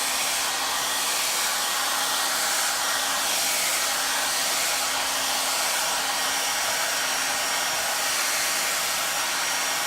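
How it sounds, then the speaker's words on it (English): A hair blow dryer runs continuously at close range with a steady, loud airy roar and a faint constant hum while a brush is used to style hair. "when I am utilizing my blow dryer, I do not point it in towards the scalp"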